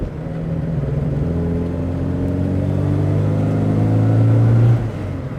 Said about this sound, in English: Little rev match on the down change.